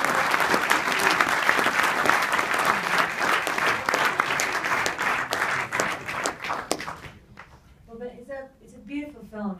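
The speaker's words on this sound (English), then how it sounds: "So another big round of applause." Audience applause at a documentary world premiere Q&A at DOC NYC, a dense, loud burst of clapping for about seven seconds that cuts off, followed by a voice talking.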